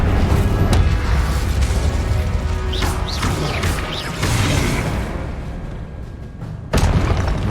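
Incendio fire spell cast in Hogwarts Legacy, heard as a dense, continuous roar with a booming impact, whooshing sweeps mid-clip and a fresh thud near the end, loud and close with no talk.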